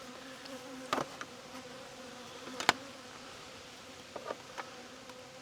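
Honey bees from an agitated, previously queenless hive buzz in a continuous faint drone, with a few sharp knocks and taps breaking through during an apiary inspection.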